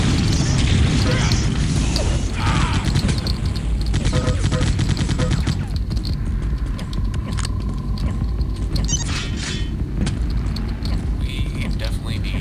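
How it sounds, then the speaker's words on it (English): Super shotgun blasts and dense gunfire in a Quake 3 arena match with Strogg trooper sounds, a loud, continuous barrage of shots and booms filling the whole stretch. "Blasted by a freaking super shotgun."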